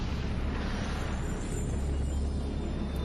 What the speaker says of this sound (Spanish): A partir de una gran explosión inicial, a partir de una singularidad infinitesimal, el universo estalló